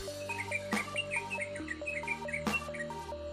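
Sooty-headed bulbul (trucukan) chirping in a series of bright, warbling whistled notes and trills, close and clear, with a couple of sharper louder calls and no talking.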